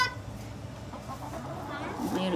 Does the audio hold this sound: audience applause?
no